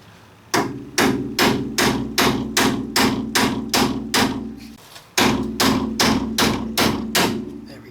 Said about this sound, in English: so I can hammer this out the rest of the way